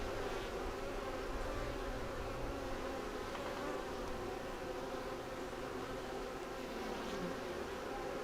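Honey bees swarming around a hive screened with mesh, a steady, dense, close buzzing drone that holds level throughout, with no speech.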